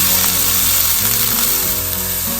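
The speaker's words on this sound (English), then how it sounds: "Saute that for about 30 seconds." Crushed garlic sautéing loudly in a pan, a close, dense, steady sizzle with faint stirring throughout.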